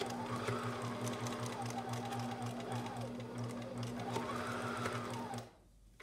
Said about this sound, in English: So let's go ahead and just stitch across that side.